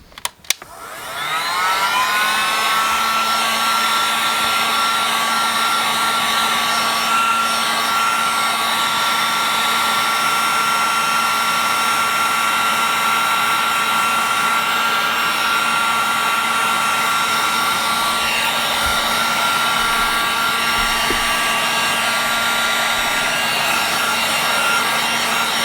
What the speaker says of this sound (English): And we'll get a blow dryer.